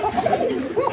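A pigeon from a breeding pair offered for sale gives a short, close, continuous cooing call outdoors, low and throaty, lasting about a second with no talking.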